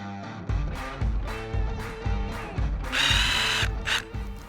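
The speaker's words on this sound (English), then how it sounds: "let's get this pre-drilled." Power drill pre-drilling holes in wood, a series of short revving bursts that climb in pitch, ending in a longer, louder spin, close up with no talking.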